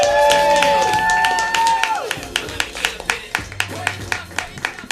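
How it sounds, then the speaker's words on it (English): A comedy club crowd applauds and cheers for a comedian, dense clapping that begins under fading music and an announcer's voice, then continues as close, loud individual claps with crowd noise. "Please clap for Blake Hoshibata"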